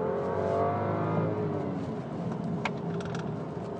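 A 2012 BMW ActiveHybrid 5 accelerates hard on a twisty hill circuit, its engine note rising steadily in a smooth, refined drone heard from inside the cabin, with no talking.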